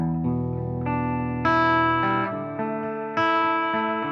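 An electric guitar played through a Fender Super Reverb amp rings out in sustained chords that change every second or so, clean and full with some effect shimmer, with no talking.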